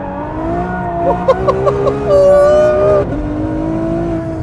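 A Ferrari engine is blipped through several sharp revs, rising and falling in quick succession close by, then settles back to a steady idle.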